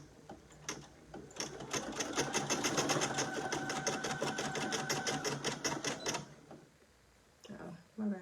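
Brother PE800 embroidery machine stitching a satin top stitch, a loud rapid mechanical clatter of needle strokes running steadily for about five seconds, then stopping, with a person speaking before and after.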